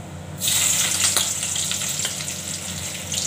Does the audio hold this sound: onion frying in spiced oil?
yes